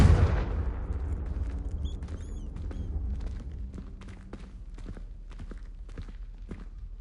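A Confringo fire spell explodes in Hogwarts Legacy with a loud opening blast that decays into a trailing rumble, followed by scattered crackles and small impacts.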